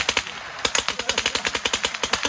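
A rapid string of close .22 rifle gunshots, about twenty sharp cracks in quick rhythmic succession after a single opening shot and a brief pause.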